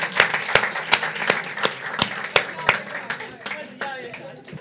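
A studio audience claps along in a steady rhythmic beat during a Turkish late-night talk show, the sharp, evenly spaced claps rising above a busy crowd murmur, with voices in the background.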